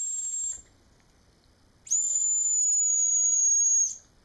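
An adjustable dog whistle set within the audible range gives a loud, pure, piercing high tone in two blasts, a short one first and then a longer sustained one after a pause, with no talking.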